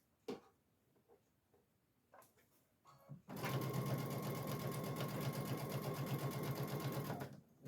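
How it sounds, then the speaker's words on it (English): A sewing machine stitches a pillowcase in a fast, loud, steady mechanical whir that runs for about four seconds, preceded by quiet handling noises. "Coming up to the end, I am going to go ahead and back stitch."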